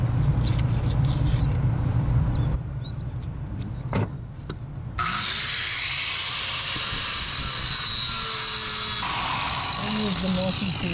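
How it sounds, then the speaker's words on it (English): A die grinder cutting on the inner bulwark of a fishing boat during a refit, a loud high-pitched whine starting and stopping in bursts against a rumbling background, with people talking at times. "We have our die grinder now."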